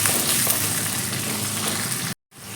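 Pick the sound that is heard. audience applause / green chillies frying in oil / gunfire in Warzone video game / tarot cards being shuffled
green chillies frying in oil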